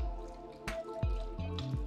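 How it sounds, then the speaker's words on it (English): Chicken stock pours into an Instant Pot pressure cooker in the kitchen, giving a few close, wet splashing drips and gurgling plops in quick succession. "I've got some chicken stock and I'm going to just pour"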